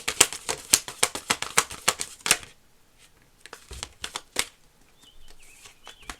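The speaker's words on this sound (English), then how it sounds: "I'll do one more good shuffle." A deck of playing cards being shuffled: a rapid run of crisp riffling snaps for about two seconds, then a few scattered taps and slides as the cards settle, close and with no voices.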